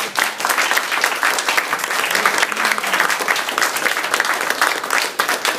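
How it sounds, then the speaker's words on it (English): A live audience applauding, dense steady clapping from many hands that carries on for several seconds without pause. "So let's give a round of applause"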